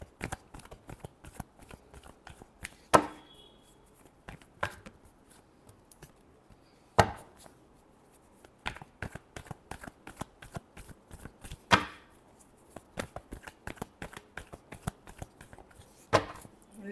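A tarot deck is shuffled by hand in repeated short bursts of riffling and card slaps, close and clear, separated by quiet pauses.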